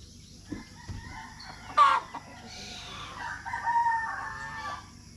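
Hungry chickens squawk and cluck, with one loud rooster-like crow burst near the middle followed by a run of clucking calls, fairly close against a quiet background.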